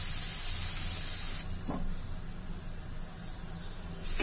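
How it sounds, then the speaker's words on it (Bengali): Spice paste for katla fish kalia sautéing in a pan with a steady, close sizzle and frying hiss throughout, a brief stir or clatter partway, without any talking. "মশলাটা কষা হচ্ছে"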